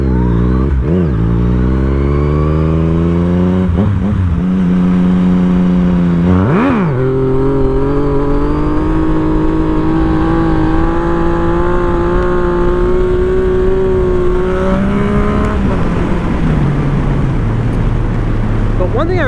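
A Yamaha MT-09 (FZ-09) inline-three motorcycle engine roars loud and close, rising through sharp revs and gear changes, then holds a steady drone at speed before the pitch climbs again.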